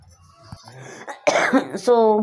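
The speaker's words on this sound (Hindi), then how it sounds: "मेरे को ना खांसी हो रही है बीच बीच में कभी कभी" A few rough coughs and throat-clearing sounds, close and fairly loud, mixed with bits of voice between them.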